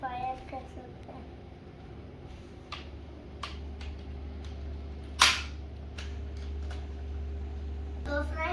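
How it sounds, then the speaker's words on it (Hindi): Toy Nerf gun fired indoors: a single sharp snap near the middle stands out over a low steady hum, with a few smaller clicks and taps of handling around it. "तो फ्रेंड्स इसको ऐसे आप खोल के भी ऐसे लगा सकते हैं और फिर फायर कर सकते हैं।"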